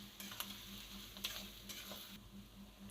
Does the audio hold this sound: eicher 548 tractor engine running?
no